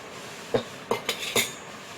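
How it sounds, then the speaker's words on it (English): A whisk or utensil strikes a bowl while beaten eggs are mixed into hot milk for caramel custard pudding, four quick sharp clinks close by over quiet background. "make sure you quickly whisk it"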